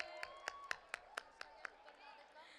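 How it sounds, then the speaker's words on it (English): At a college valedictory ceremony, an audience claps for a prize winner with about nine distinct, sharp, evenly spaced claps, quiet and fairly close, over faint background murmur. "Give a huge round of applause for him."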